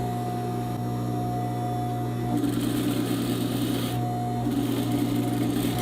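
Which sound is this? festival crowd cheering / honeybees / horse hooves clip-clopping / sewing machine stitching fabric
sewing machine stitching fabric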